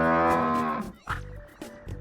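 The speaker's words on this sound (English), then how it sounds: "Cow." A single cow gives a long, loud, close moo that tails off, followed by a few short rustles and knocks.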